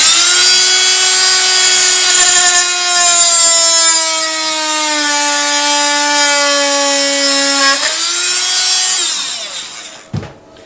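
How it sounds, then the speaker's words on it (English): A Dremel rotary tool cutting scrap wood for a coffee table, a loud close high-pitched whine that drops slightly in pitch under load, then winds down and stops with a brief knock at the end. "Grab your saw. Now I use my Dremel here."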